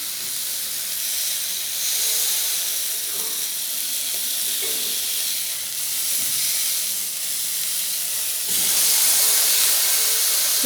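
Beef steak sizzles in a pan over a medium flame just after being flipped: a steady, close, broadband hiss that swells louder near the end, with faint stirring and scraping underneath.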